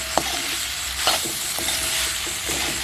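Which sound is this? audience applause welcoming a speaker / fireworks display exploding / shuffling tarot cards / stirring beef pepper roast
stirring beef pepper roast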